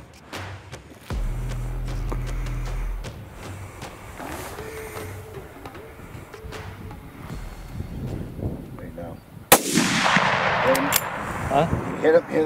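A sharp gunshot cracks out during a black bear hunt, one loud blast followed by a rolling echo and wind noise, with low engine-like rumble and faint voices earlier.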